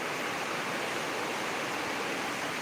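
Heavy rain pours under a cloudy sky, an unbroken, loud, broadband rush of water with no gaps.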